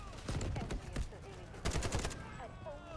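Gunfire in the video game Delta Force, rapid bursts of automatic shots crackling in two clusters, loud and dense, with players' voices talking underneath.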